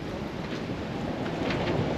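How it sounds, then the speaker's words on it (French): Wind roars steadily across a sailboat under reduced sail on a beam reach, a constant loud broadband rush buffeting the microphone for the full two seconds, with no voices. "Alors attention, il va y avoir un peu de vent."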